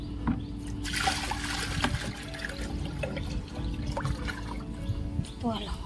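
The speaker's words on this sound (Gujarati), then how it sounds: "ફટાફટ પહેલાં કુંડીમાં પાણી ભરી લઉં" Water runs steadily into a household tank, a continuous close trickle and splash that lasts throughout, with faint background sounds and no clear speech.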